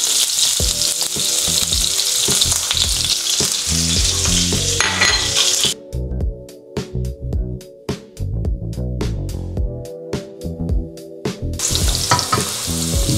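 Garlic sizzles loudly in butter and olive oil in a frying pan, a steady close hiss with stirring scrapes, dipping briefly midway before the full sizzle returns.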